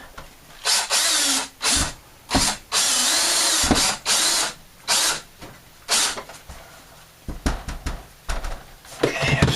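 Power drill boring into quarter-inch plywood during a garden tub removal, heard as repeated loud bursts of whirring, several short and one long, separated by brief pauses, with clicking and handling near the end.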